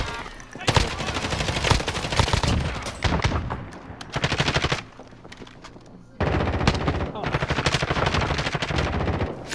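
Bursts of automatic gunfire in Call of Duty: Modern Warfare, loud and close, with rapid rattling volleys broken by short pauses and quieter stretches, while players talk faintly underneath.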